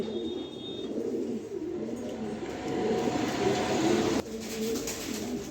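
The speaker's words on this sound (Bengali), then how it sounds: "নরের ডাকই থামে না নরের ডাকটাই থামতাছে না" A male racing pigeon coos repeatedly in low, rolling phrases near at hand, calling almost without pause over a soft background hiss.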